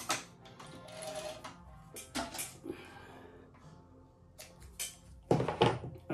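A CB-4500 harness stitcher machine sewing leather, making irregular mechanical thunks and clatters that are faint and close, with short gaps between the stitches.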